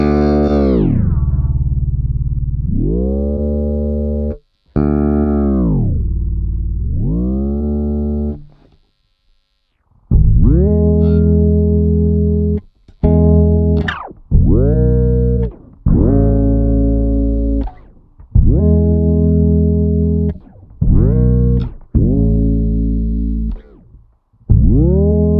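Bass guitar run through a Boss XS-1 polyshifter, notes bending in smooth one-octave downward pitch sweeps, several sustained sweeping phrases separated by short gaps, loud and close with no talking.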